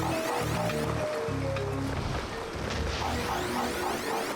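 Waterfall rushing in the video game Pac-Man World Re-Pac, a continuous broadband wash of falling water with light game effects layered over it.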